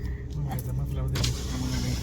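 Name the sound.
Suzuki Jimny car moving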